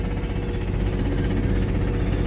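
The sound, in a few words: Toyota MR2 engine knocking while driving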